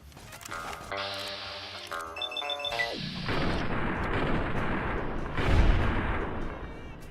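Weapon fire in Fallout: New Vegas, Old World Blues add-on: a few sharp electronic shots and tones early on, then a sustained rumbling, booming wash with a heavier thump near the end, no talk.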